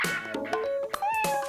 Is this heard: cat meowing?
yes